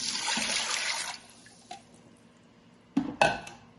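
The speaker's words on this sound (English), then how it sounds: "I added 3 cups of broth." Broth is poured into a pot of rice with bay leaves for cilantro lime rice. A close, steady liquid pour lasts about a second, followed by quiet and then two sharp clanks of cookware.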